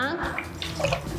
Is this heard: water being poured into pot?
yes